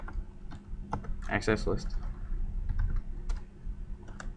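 Clicking keystrokes on a computer keyboard while entering a router access command, a quick burst of taps mid-clip with scattered single presses around it, close and clear, with a brief spoken word.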